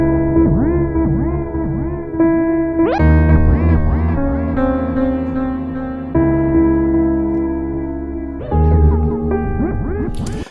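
A piano take with an echo effect in Reason, heard together with a dry piano, plays loud sustained chords. Pitch-bending, warbling repeats swirl around the chords, which change several times across the passage.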